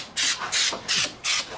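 A spray can spraying onto a car tire in four loud, close bursts of hissing aerosol, each about a quarter second long, separated by short pauses.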